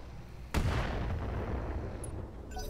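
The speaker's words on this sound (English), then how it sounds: "Firing on target." Mech weapons fire in the BattleTech video game Roguetech: a single heavy blast lands abruptly, then a long rumbling, crackling decay fills the rest of the moment with no voices.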